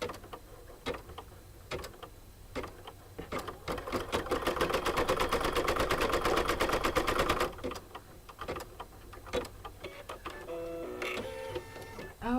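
An embroidery machine stitching the eye of a chicken-design coaster, a fast, rapid mechanical needle patter that swells louder in the middle, then slower clicks and a short whirring motor burst near the end.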